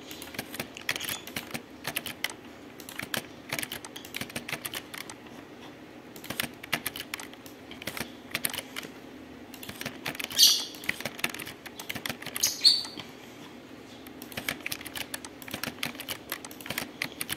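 Quick, light clicks of keyboard shortcuts being typed on a computer keyboard while laying out a document, coming in short irregular bursts at low volume with no talk.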